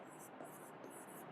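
Marker or chalk strokes on a board during a maths lesson, short scratchy bursts repeating in quick rhythm, close and faint, with a voice murmuring softly underneath.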